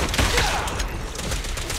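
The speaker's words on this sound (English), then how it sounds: "Oh, he's shooting." Enemy gunfire in the video game Zenless Zone Zero crackles as a dense, continuous burst of rapid shots, loud and close, filling the whole short stretch without any voices.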